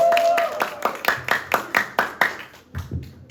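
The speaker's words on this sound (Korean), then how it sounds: "자, 우리 목사님에서 박수로 시작하겠습니다." A group claps in even unison at a church camp lecture, about ten sharp beats at a steady rhythm that fade out, with a voice in the background.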